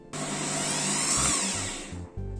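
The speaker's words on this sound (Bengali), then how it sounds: "একটা গ্রাইন্ডিং জার নিলাম। এখানে মেজারিং কাপের 1 কাপ ওটস নিয়েছি। ওটসটা দিয়ে দিলাম। ওটসটাকে জাস্ট একবার একটু চালিয়ে নেব" A grinder jar whirring as it grinds one cup of oats into a coarse texture, a steady loud high-pitched motor roar that runs continuously, then cuts and restarts in short pulses near the end.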